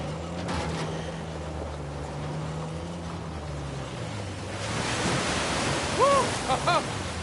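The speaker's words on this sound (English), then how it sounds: "A secret cave behind the waterfall." Steady broadband rush of a waterfall at a hidden cave in the video game Uncharted 4, a continuous wash of water noise that swells louder partway through, with a few brief tonal chirps near the end.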